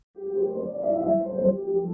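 Sustained eerie, tonal drone with wavering pitches and a washy, reverberant tail, like a synthetic ambient pad swelling in after a brief silence, made with the Soundtoys Space Blender reverb plugin.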